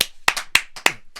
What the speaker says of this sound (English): Can I just basically ask the room to fucking give a big round of applause to Arel the third?